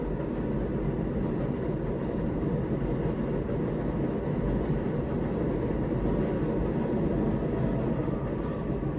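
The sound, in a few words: train passing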